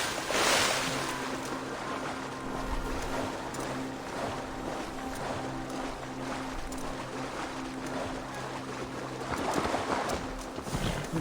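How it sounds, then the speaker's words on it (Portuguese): A horse swims through water in Assassin's Creed Valhalla, with continuous sloshing and splashing at moderate volume, a low steady hum beneath it and a brief louder surge near the end. "Vamos ter que nadar, cavalinho."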